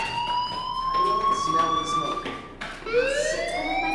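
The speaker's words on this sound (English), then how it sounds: "Hey, do you hear that fire alarm? That means you should be outside." A fire alarm rings inside the video game Life Is Strange, a loud, steady electronic tone that sweeps upward, cuts out briefly and then starts again.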